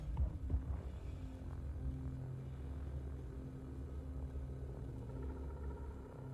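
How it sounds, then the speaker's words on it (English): Steady, metallic mechanical hover drone of an Asgard ship in the video game Star Citizen: a low throbbing hum with sustained tonal layers, holding evenly throughout with no talk. "Let's try the Asgard hover sound."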